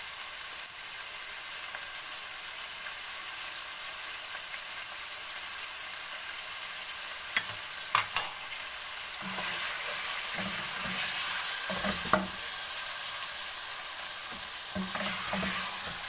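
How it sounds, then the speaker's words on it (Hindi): Chicken sautés with ginger garlic paste in a pan, giving a steady close sizzle throughout with occasional scrapes and clinks of a stirring spoon. "इसको अच्छी तरह जी अदरक लहसुन की पेस्ट के साथ अच्छी तरह इसकी बुनाई करेंगे"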